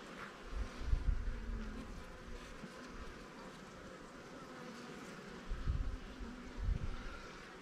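Honey bees buzz in a dense, steady drone around an open hive during a colony split, with a few louder swells as individual bees pass close by.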